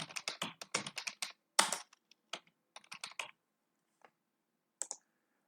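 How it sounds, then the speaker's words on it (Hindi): Data is typed into a web form on a computer keyboard: quick, close, crisp bursts of keystrokes, then sparse single clicks separated by silent pauses. "अब मैं यहाँ पे जो डेटा एंटर करूंगा, मैंने यहाँ पे डेटा एंटर किया"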